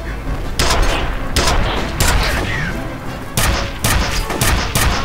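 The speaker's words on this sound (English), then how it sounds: "It's a fucking nail gun." Nail gun in the FEAR video game fires in loud, rapid bursts, several clusters of sharp repeated shots separated by short gaps, with game noise and a brief whooshing effect between them; no clear talking.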